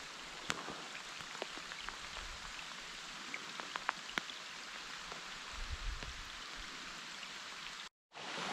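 Heavy rain pours steadily through a jungle-like forest on a fishing trip, a dense even hiss with scattered louder drops ticking nearby, before a brief cut to silence near the end.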